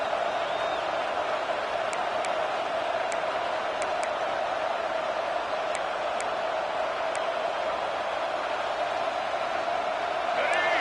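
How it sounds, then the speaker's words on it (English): Roaring stadium crowd in a college football video game, a dense, constant wash of cheering that stays loud throughout, with faint ticking clicks scattered on top. "Man, this crowd really affecting the football game."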